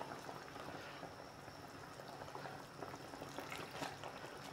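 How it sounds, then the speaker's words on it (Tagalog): Grouper head sinigang broth with leafy greens boils at a steady rolling simmer in a pot, a dense continuous bubbling hiss with small pops, close and even throughout with no talking. "Ayan, kulo na guys."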